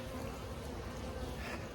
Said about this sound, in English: We got bees right there.